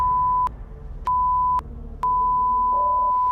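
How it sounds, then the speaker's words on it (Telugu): A loud electronic censor bleep cuts in three times in a row, the first two short and the last held longer, with only a faint low hum in the background. "దయచేసి బీప్ లేయరా"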